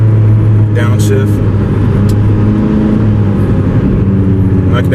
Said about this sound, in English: I can actually hear the rumble from the resonator under the car, coupled with the rumble from the dual exhaust.